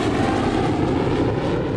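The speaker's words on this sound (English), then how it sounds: "They're gonna blast us with his jet blasts." A Bombardier CRJ regional jet's engines roar on the runway before departure, a loud, dense, continuous rumble and hiss that stays steady and close throughout.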